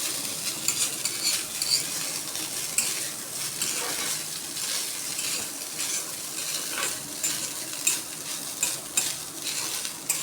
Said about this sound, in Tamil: லைட்டாக அப்படியே சால்ட் எல்லாம் தூவிட்டு நல்லா கிண்டி விட்டுக்கோங்க